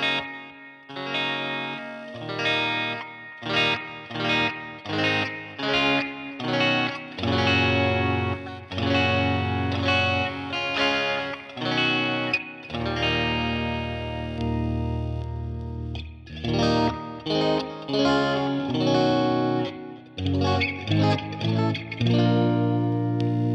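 Gear4Music LA electric guitar played through effects, mixing rhythmic strummed chords and sustained passages, with crisp repeated attacks and ringing notes at a steady, fairly loud level.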